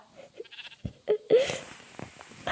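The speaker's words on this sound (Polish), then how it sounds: "Owca wyleciała." A few sheep bleats in Minecraft, short and nasal, ring out over busy game sounds and scattered thumps, fairly close.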